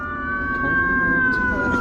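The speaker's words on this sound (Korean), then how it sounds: "야 경찰차 지나간다" A police or emergency vehicle siren wails loudly along a street in Los Angeles, a steady rising-and-holding tone that swells as it passes nearby, with no voices over it.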